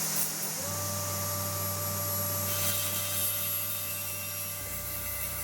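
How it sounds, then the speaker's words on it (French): A table saw blade runs steadily through walnut, a constant motor hum with a high whine that continues alone for several seconds before the tone shifts as the cut finishes; the blade overheated and scorched the wood. "La coupe est belle, mais la lame a chauffé et brûlé le noyer."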